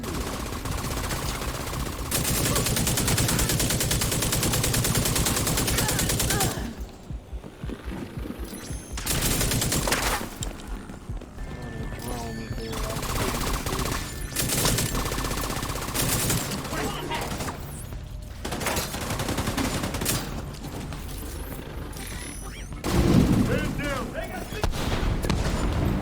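Dense, sustained gunfire from The Division 2 video game: rapid machine-gun bursts and heavy booming shots roll almost nonstop, loud and close, with brief lulls and a sharp blast near the end. No voices speak over it.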